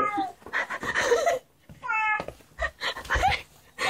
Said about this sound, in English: Oh, there's this cat.